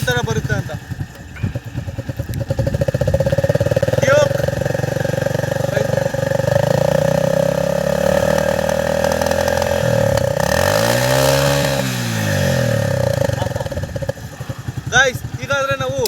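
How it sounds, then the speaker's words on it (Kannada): A KTM motorcycle with its stock exhaust idles and then revs up and down in a rising and falling surge, loud and close, while someone talks over the engine. "ನಾರ್ಮಲ್ ಬೈಕ್ ಸೌಂಡ್ ಆದರೆ ಈಗಿದೆ, ರೈಸ್ ಮಾಡ್ತೀವಿ"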